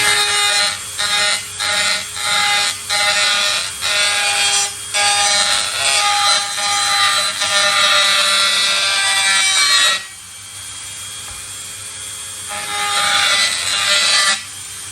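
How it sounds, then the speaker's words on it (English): An oval carbide burr grinds a kudu shofar horn for tuning, a loud, shrill rasping buzz in rapid pulses that steadies into a continuous whine, briefly drops away, then returns. "let me just tune it a bit further with this oval carbide burr"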